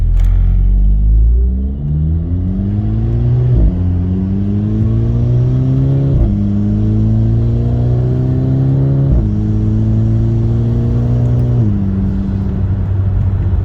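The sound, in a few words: car engine accelerating, intake sound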